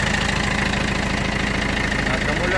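A Mitsubishi MT24D Japanese tractor's four-cylinder engine idles close up, a loud, even, steady chug that carries on unbroken.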